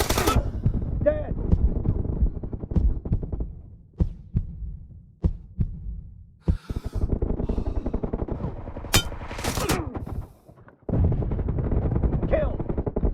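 A silenced QBZ rifle in PUBG Mobile fires several short, muffled bursts of rapid shots, mixed with thumps and other in-game sounds during quieter stretches.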